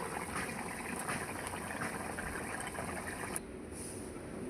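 Mustard-based Morola fish curry (jhal) bubbling steadily in a pan, a dense, continuous close-up simmering hiss and burble that softens slightly near the end; no voices.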